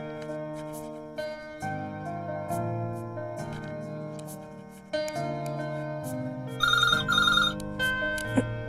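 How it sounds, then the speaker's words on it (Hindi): A telephone rings with a repeated electronic ringtone melody, loud and steady, alone without talk, in an indoor scene from a Hindi-dubbed South Indian film. "ओके पारू, जरा फोन उठाना।"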